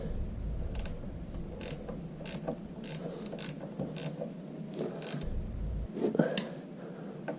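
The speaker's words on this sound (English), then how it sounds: "I've got a ratchet spanner which makes it a bit easier." A ratchet spanner turns the suspension adjuster on a 2015 Triumph Street Triple 675R, giving bursts of quick, close clicking in short runs with pauses between, fairly quiet against a low background hum.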